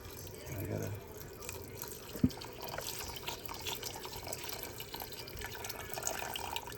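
Broth pours from a carton box into a pot of sweated vegetables for split pea soup, a soft continuous trickling splash with a small thud near the start, quiet and close.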